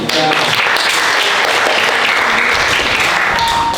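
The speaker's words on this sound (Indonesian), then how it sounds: "Jadi tepuk tangan untuk teman-teman sudah" Classmates in a school classroom clap together in steady, dense applause that fills the whole stretch, loud and close, with a faint voice or two underneath.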